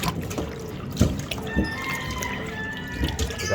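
Tap water running and splashing while raw beef is rinsed of blood in a kitchen, a faint steady trickle with a few louder splashes and clinks throughout.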